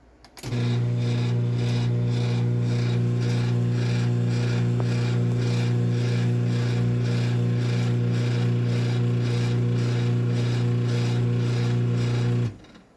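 A Chamberlain C450 chain-drive garage door opener starts up and drones steadily for about twelve seconds, a loud low hum with a grinding, rattling chain-drive texture, then stops.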